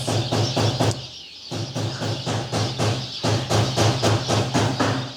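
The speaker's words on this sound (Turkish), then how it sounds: "Kuşun seslerini duyuyor musunuz?" Rapid, evenly spaced chirps repeat in quick bursts, pausing briefly twice, loud and close with no voices.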